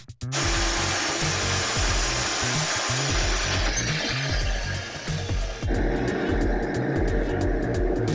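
Power tool cutting away part of a two-stroke engine grinds loud and continuous at close range, with a slight change in tone partway through and no speech over it.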